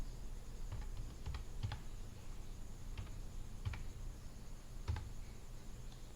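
Code being typed on a computer keyboard, with irregular bursts of light key clicks spaced across a few seconds against a low steady hum, close and fairly quiet with no talking.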